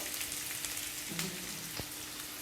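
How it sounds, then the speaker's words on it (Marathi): Chopped onion sautéing in a pan for homemade noodles, giving a steady, fine crackling sizzle like light rain throughout, with a faint low tonal hum and one brief sharp tap near the end. "कांदा टाकून, कांदा काही फार लाल करायचा नाही आपल्याला, थोडासा परतून घ्यायचा आहे"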